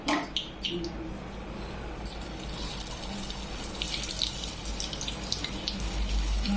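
A carrot puri dropped into hot oil, giving a continuous hissing sizzle with crackling pops throughout and a faint voice in the background.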